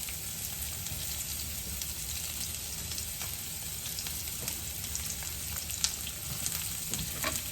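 Onions frying in olive oil in a home kitchen pan, a steady close sizzle and crackle with occasional stirring scrapes, no talking.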